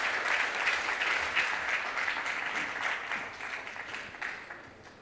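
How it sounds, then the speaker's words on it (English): Audience applause for a conference panel at a technical symposium, a dense, steady clatter of many hands clapping that holds strong for several seconds and then gradually thins and fades toward the end. "I would like us to please appreciate our panelists with a hearty round of applause."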